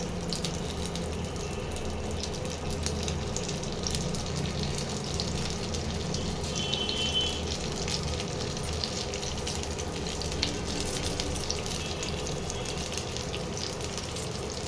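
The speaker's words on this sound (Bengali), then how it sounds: "এইভাবে ভাজতে হবে, এপিট ওপিট করে একটু ভেজে নিতে হবে।" Stuffed flat beans frying in hot oil, a steady close sizzle and crackle that runs unbroken throughout with no talk.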